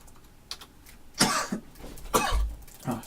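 A person coughs twice, sharp and close to a microphone, with faint keyboard clicks around the bursts.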